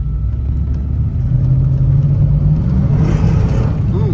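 A 2003 Toyota Tundra engine, running lean and needing fresh fuel, revs steadily at close range, a loud continuous rumble that swells around the middle and rises again near the end.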